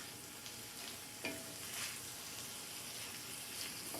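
A tomato mixture is stirred in a pan, with a soft, steady sizzle and faint scraping strokes of a spoon, quiet and without talk.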